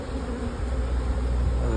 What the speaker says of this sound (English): I'm just transferring the bees across.